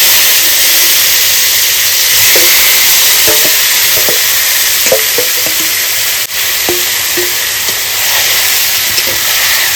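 Marinated meat, with whole garam masala, dried red chillies and cumin, sizzles loudly in hot spiced oil over a wood fire, a dense continuous hiss broken by scattered crackles and light utensil knocks.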